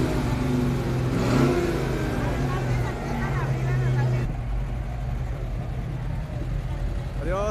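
Engine of a 1964 Ford Falcon rumbling and revving at a Day of the Dead parade in Guadalajara, mid-distance, amid crowd noise and talking, with a strong steady low drone throughout.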